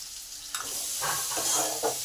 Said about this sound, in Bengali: নুন হলুদ আর জিরেটা আলুর গায়ে ভালো করে মাখিয়ে দিলাম